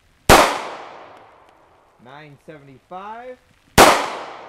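Two loud, sharp 9x19mm pistol gunshots from Prime 124gr Hexagon Match ammunition in a velocity and gel test, each with a long decaying tail. They come about three seconds apart, and a voice speaks briefly between them.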